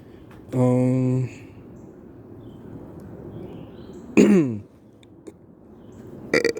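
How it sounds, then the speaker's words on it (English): A loud, long croaking burp rises from near the mic, followed later by a second shorter belch-like sound, with quiet background otherwise. "Burp."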